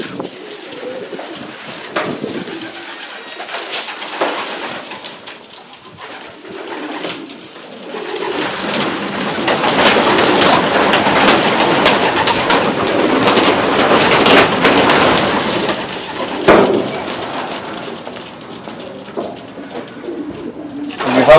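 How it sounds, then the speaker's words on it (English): Racing pigeons in a loft coo and rustle in a dense, continuous mass of sound, loud and close, swelling in the middle with occasional sharper knocks. "Good quality pigeons,"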